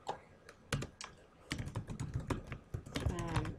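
Rapid, close keystrokes on a computer keyboard while a Google Form title is typed, sparse at first, then a dense burst of clacking, with faint speech near the end.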